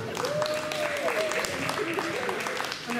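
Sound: audience applause at post-prom event

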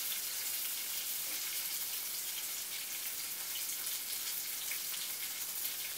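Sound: stuffed brinjal sautéing in oil in a pan

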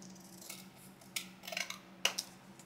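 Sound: paper trimmed with scissors

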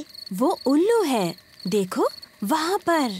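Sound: insects chirping in a cartoon, cricket-like

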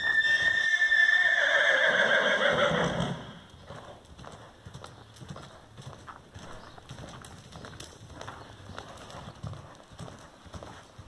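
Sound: horse cantering on a lunge line

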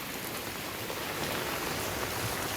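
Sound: heavy rain falling

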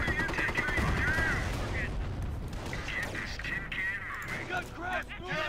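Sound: 50 cal machine gun bursts in video game Company of Heroes

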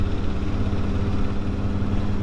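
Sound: motorcycle exhaust

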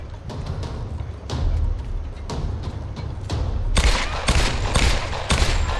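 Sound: shotgun firing in the video game Tomb Raider

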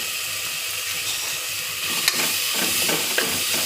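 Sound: ginger garlic paste frying in a pan

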